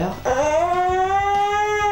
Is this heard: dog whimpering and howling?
yes